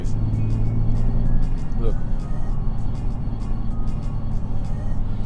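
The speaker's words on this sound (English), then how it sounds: "Let me just keep quiet so you can hear the amount of road noise." Steady road and tire noise fills the cabin of a moving Nissan 370Z, a loud constant low drone with engine hum, and someone speaks one brief word early on.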